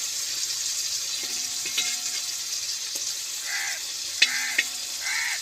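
Green chillies, dried chillies and curry leaves frying in a pan for a dried shark roast, a steady close sizzle with a few soft clinks and faint background birdcalls, no talking.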